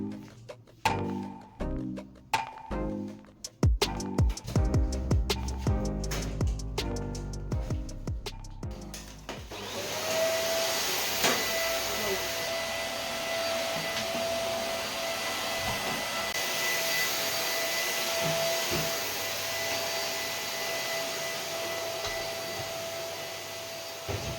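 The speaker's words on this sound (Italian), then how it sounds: "Prima do una spolverata veloce e passo l'aspirapolvere" Clattering and knocking sounds in a bathroom give way to a vacuum cleaner droning steadily and loudly nearby, a continuous whirring hum that lasts to the end.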